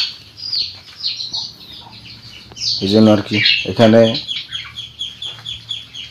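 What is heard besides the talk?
chickens clucking in a room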